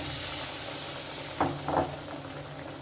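Flour-battered bread and chicken deep-fry in oil with a steady low hiss, then a couple of brief louder sizzling bursts as pieces settle into the hot oil.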